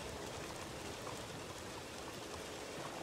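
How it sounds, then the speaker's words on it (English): Steady rain falling in the video game Wild RP, a constant soft hiss of drops with no breaks, faint and even throughout. "Oh, this fucking rain."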